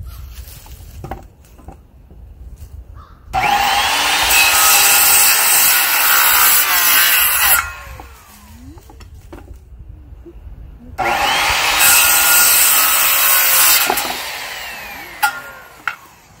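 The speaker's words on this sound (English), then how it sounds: "cut out a little section of the pallet board underneath and see if it flattens it out" A wooden pallet board being cut with a saw in two loud, steady bursts of about four seconds each, separated by quieter pauses with light handling noise.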